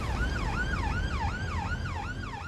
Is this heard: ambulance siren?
yes